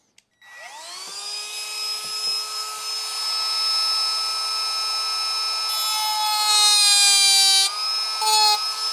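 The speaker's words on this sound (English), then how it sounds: "So I'm going to Dremel it out." A Dremel rotary tool whines as it cuts a small plastic piece from a Traxxas Mini Maxx RC truck, a loud, sustained high-pitched buzz that rises in pitch and bites harder toward the end, alone without speech.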